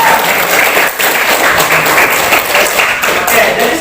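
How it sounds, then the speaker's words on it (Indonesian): Loud, dense clapping fills a classroom during a seventh-grade civics lesson, a continuous close patter of many hands lasting several seconds. "Jadi tadi, tepuk tangan"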